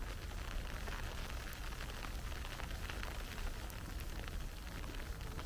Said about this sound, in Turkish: Yaz güzel yağıyor ya. Gerçekten güzel yağıyor.